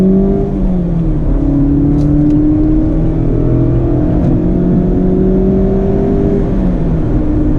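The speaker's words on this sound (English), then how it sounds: "you hear more of that engine, which I was missing before" A 2019 Mazda MX-5 RF engine pulls steadily under acceleration, its tone rising and settling in smooth sweeps, heard from inside the cabin with no talking.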